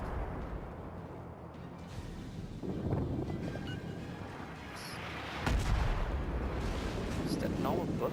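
Ship guns fire shells in World of Warships naval combat, with booming blasts at intervals over a windy, rumbling sea backdrop; a loud salvo stands out midway.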